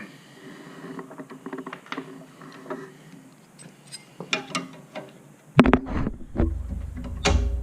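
Seat springs pop and click during a bolt-on seat spring install, scattered sharp metallic ticks building to a louder clattering burst of pops and knocks near the end.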